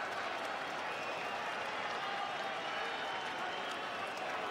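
Steady crowd noise and scattered applause from a rugby stadium in Invercargill during an Argentina versus Romania World Cup match, a continuous wash of cheering at moderate distance with no clear peaks.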